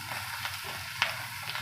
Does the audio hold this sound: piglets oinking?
no